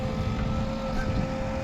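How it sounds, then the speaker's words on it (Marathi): A tractor engine runs steadily nearby, a continuous low droning rumble with a faint whine, holding constant loudness throughout without speech. "हे बघा ट्रॅक्टर आहे"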